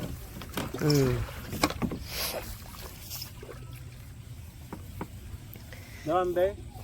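A wooden village rowboat on water in rural Bangladesh, with soft paddle splashes and creaks of the hull. Voices speak now and then over the quiet water sounds.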